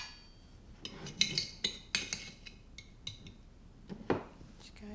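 A spoon clinks and taps against a glass jar as a tablespoon of sugar goes in, a string of light, bright clicks and scrapes, fairly quiet and close.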